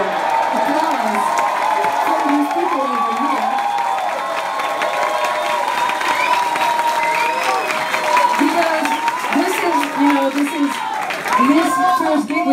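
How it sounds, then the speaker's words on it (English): Concert crowd at a show in São Paulo breaks into sustained applause and cheering, a dense continuous roar of clapping with whoops throughout, while a voice talks over it. "I think you deserve a special applause"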